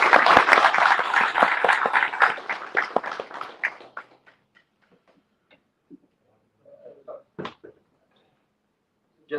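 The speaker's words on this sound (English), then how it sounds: "Can I please get a round of applause for Mr." An audience at an international conference on Balochistan in Geneva applauds for John Macdonald. The clapping is loud and full at first, then thins and fades out after about four seconds, and a few faint scattered sounds follow.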